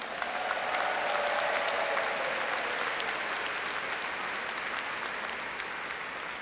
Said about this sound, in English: Please give them a hand of applause.